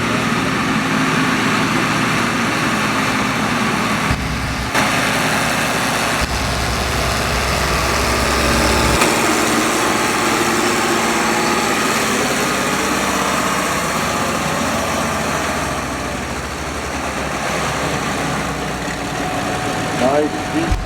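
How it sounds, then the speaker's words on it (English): A naturally aspirated Ford 8000 tractor engine runs steadily at a county fair tractor pull, with a continuous loud mechanical drone and a shifting low rumble while an announcer talks over it. "Tractor is naturally aspirated, no turbo on this tractor."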